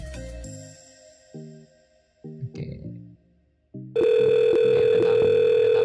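A SIP PBX phone system dialing and then ringing on an outgoing call, with stepped electronic tones and beeps giving way to a loud, steady ringback tone, close and alone.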